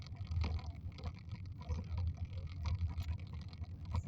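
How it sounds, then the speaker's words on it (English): Car rolling down a rural gravel road, a steady low rumble of tires crunching over loose stones inside the cabin, continuous and moderately quiet with no talk. "the noise that you hear is driving on gravel."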